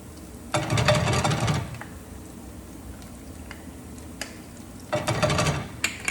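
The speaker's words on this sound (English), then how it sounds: "I see that it's sizzling." Tomato paste for spicy vodka pasta sizzles in a hot pan, two loud bursts of hissing and scraping as it is stirred, with quieter ticks and clinks between.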